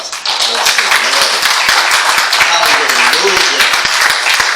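A church congregation claps hands together in a dense, continuous burst of applause, with voices mixed in beneath the steady clapping throughout.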